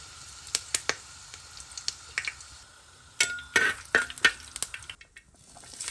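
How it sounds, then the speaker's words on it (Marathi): Mustard seeds and curry leaves frying in hot oil in a pan for Konkani cabbage foogath: a scatter of sharp crackles and pops, some in quick bursts, over a low sizzle, close and fairly loud. "पळय सांसवां आतां फुटपाक लागला"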